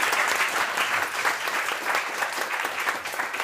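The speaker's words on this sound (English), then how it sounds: "A warm applause to the panel and to Pavan Sukhdev." A seminar audience gives a warm round of applause to a panel and to Pavan Sukhdev, with steady, dense clapping that fills the room from start to finish.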